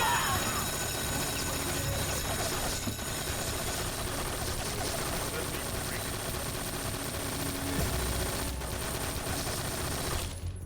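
Dense, continuous gunfire crackles throughout, rapid 5.56 rifle bursts in Metal Gear Solid 3 layered over a constant busy game din with no clear pauses.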